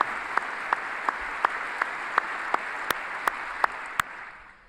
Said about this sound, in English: It's just standing and clapping.